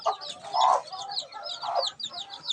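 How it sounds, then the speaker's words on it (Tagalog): Newly hatched chicks about five days old, held in a large cage, give repeated high, thin peeping chirps, close and fairly clear, with a few louder calls among them. "dito po yung 11 ng mga sisiw na bago lang pong napisa"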